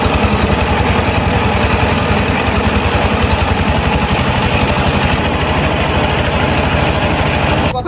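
A motorboat engine runs close and loud on a river near a market landing, a steady, rough, throbbing drone that holds without a break.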